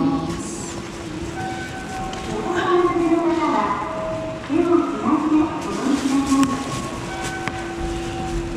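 A JR Shikoku 7000 series local electric train at a station platform: a steady mechanical hum with rising motor whines and faint tones, while people talk quietly nearby.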